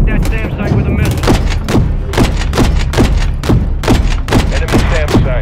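Repeated heavy impacts and booming blasts pound in quick succession as a missile strikes a SAM site in Call of Duty: Modern Warfare III, loud and close, with rumbling debris and gunfire layered under intermittent radio voices.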